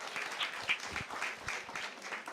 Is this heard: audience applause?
yes